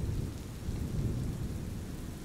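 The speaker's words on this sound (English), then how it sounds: "The weather today is terrible, with all the rain, thunder, and lightning." A thunderstorm with heavy, steady rain and a deep, continuous rumble of thunder fills the scene, loud and close with no pauses.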